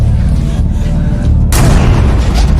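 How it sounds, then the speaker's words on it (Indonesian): A gunshot in an action film lands as a sudden loud blast midway through, followed by a sustained, broad, noisy rush over a low rumbling bed. "Metzer berhasil menembak bahu Ella hingga membuatnya jatuh terkapar"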